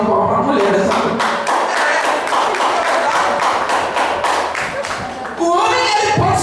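Congregation at a church anniversary service clapping for the woman, a loud, rhythmic round of many hands in quick regular beats that carries most of the clip before briefly dipping and returning.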